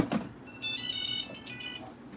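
A short electronic chime from an iRobot Braava 380t robot mop being plugged in plays a few bright rising tones after a soft click, clear and close in a quiet room.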